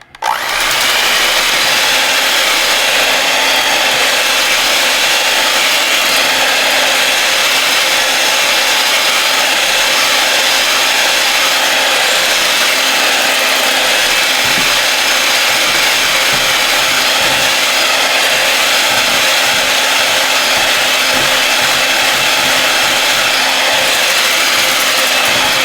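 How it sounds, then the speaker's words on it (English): A small hand mixer whips gelatin-set coconut cream pie filling, a loud continuous motorized whir that runs without a break for the whole stretch, with no talking. "So I'm going to use my little hand mixer here today."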